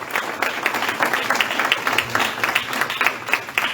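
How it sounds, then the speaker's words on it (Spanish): A church congregation claps together in steady, dense applause during a Sunday morning service, with a few voices calling out over the clapping. "Denle un aplauso al Señor grande"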